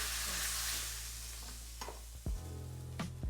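Chicken mince frying with a dollop of butter in a pan, giving a soft, steady hiss with a couple of dull clunks of a utensil near the end.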